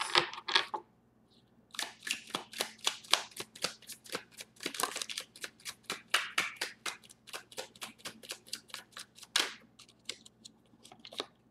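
Crisp riffling of tarot cards being shuffled, rapid papery clicks in quick bursts with a brief pause near the start and end, close and fairly quiet.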